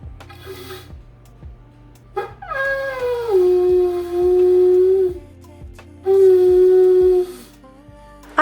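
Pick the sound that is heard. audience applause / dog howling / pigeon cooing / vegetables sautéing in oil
dog howling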